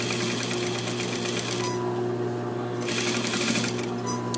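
A sewing machine stitches a lining to a jacket hem, running steadily and close with a continuous hum and rapid needle chatter, briefly easing off and then picking back up.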